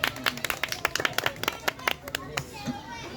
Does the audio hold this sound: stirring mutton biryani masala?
no